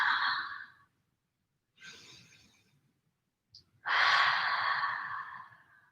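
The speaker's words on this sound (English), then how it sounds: "Take a few deep breaths here." Slow, deep breathing during a yoga triangle pose: two long breathy sighs with a pause between, the second louder and fuller, close and alone with no talk.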